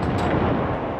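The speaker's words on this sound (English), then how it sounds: "Gun number one, fire!" A ceremonial cannon fires a single heavy blast in a gun salute at a presidential inauguration, a loud, dense boom that fills the whole short moment.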